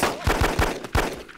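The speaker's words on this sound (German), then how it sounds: "Boom, verballert das halbe Magazin" Close, loud gunfire in Arma 2 comes as a quick run of about five sharp shots within a second and a half, with no speech over it.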